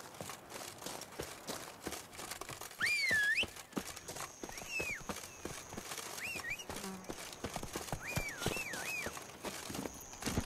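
Hooves of a horse in The Witcher 3: Wild Hunt, Blood and Wine expansion, clop steadily at a walking pace beneath chirping outdoor ambience and occasional high whistling calls, moderately close with no talking.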